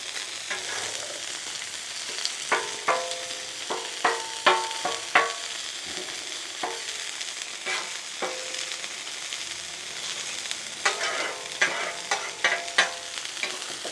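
An 80/20 beef burger fries in butter on a griddle, with a continuous loud sizzle punctuated by sharp metallic clicks and scrapes of a spatula at irregular intervals, no one talking.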